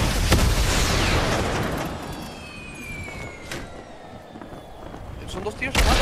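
Gunshots and explosive booms ring out in a Fortnite-style battle royale duos match, a couple of sharp shots at the start and end with rumbling blasts between, under people talking.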